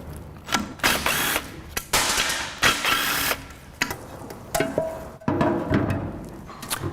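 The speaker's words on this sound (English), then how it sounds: "I'm just using a 10mm socket on an electric impact gun." Electric impact gun with a 10mm socket removing oil pan bolts, several loud, close bursts of rattling hammering, each lasting about half a second to a second, separated by short pauses.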